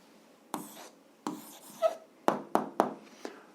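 A pen writes an answer on paper during an algebra exercise, with a few short close scratchy strokes separated by brief pauses, quiet and without talk.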